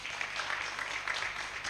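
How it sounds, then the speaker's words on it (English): An audience applauds the Bio team at a Bio Food Products sustainability launch event, a dense, steady wash of distant clapping that sounds faint and continuous throughout. "I would like to give a big applause for the Bio team for making that happen every day"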